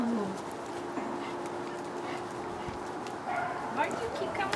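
Dog barking at a dog park, short yips and whimpers amid background chatter with people talking nearby.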